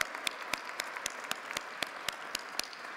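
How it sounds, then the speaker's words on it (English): Faint, distant applause at an education awards gala, a soft wash of many hands with regular sharper claps standing out in a steady rhythm, even in level and continuing for the whole stretch. "Please join me in applauding them for their continuing commitment to excellence in education."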